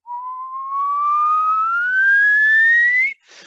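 A single clear whistle, held and sliding steadily upward in pitch for about three seconds, followed by a brief soft noise.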